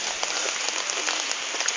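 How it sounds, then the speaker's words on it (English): Steady rain falling in a foggy forest, a dense continuous hiss of drops spattering on surfaces, even and close throughout. "It's really raining."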